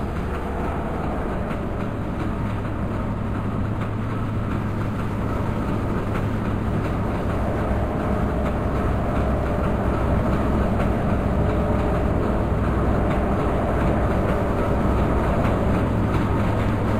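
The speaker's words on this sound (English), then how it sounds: "The Deltic is running on a rail tour from Bristol Temple Meads in the West Country, and we join the loco just south of Doncaster" Inside the cab of a Class 55 Deltic diesel locomotive on a rail tour near Doncaster, a steady loud engine drone and rail rumble run throughout with no talk.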